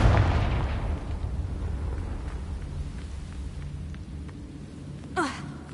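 A Confringo blasting spell explodes in Hogwarts Legacy with a loud, rumbling boom that fades slowly over several seconds, followed by a brief magical zip near the end.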